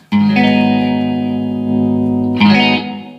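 A loud, sustained distorted electric guitar chord through a Mesa Boogie Mark III tube amp with boost rings out thick and saturated, with a second hit near the end as the tone swells.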